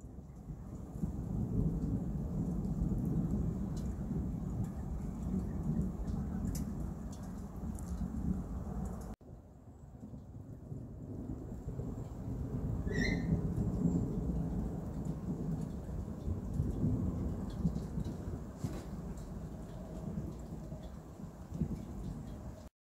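A thunderstorm outdoors with steady rain hissing throughout and low thunder rumbling continuously, loud and enveloping, with a brief break in the sound partway through.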